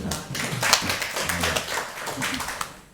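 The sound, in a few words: audience applause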